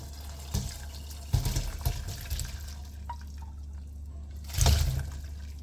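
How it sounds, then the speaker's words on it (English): Fresh tap water runs and splashes in a kitchen sink to rinse drained corn pork, coming in short bursts with a drip and trickle between them. It is fairly quiet and close. "So I'm going to go ahead now and run some water on that. Rinse it off with some fresh tap water."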